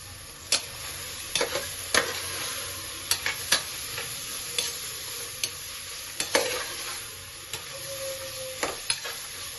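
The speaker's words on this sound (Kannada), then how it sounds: "ಬಟಾಣಿನ ಸೇರಿಸ್ಕೊಂಡು ಒಂದು ಟೈಮ್ ಚೆನ್ನಾಗಿ ಮಿಕ್ಸ್ ಮಾಡ್ಕೊಳ್ಳಿ" Green peas stirred into a sizzling tomato masala in a pan, a steady fry hiss under repeated sharp scrapes and taps of the spoon against the pan, close and fairly even.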